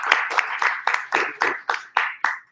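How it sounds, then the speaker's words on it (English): A small meetup audience claps for the hosts, a light spread of hands in roughly nine distinct, evenly spaced bursts, close and moderately loud with no talking over it. "So a round of applause for Gabe and Data Science for hosting us."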